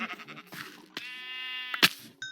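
Several short synthetic Minecraft sheep bleats, one sustained tonal baa in the middle, with brief clicks and game effects around them.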